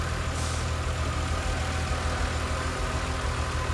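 Engine of a BMW Z3 M Coupe under restoration, running steadily at a near idle with a light, even rev and a dense, constant rumble throughout, close by with no talk.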